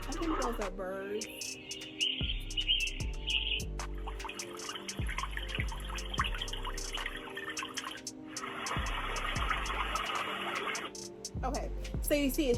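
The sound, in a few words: birdsong from white noise machine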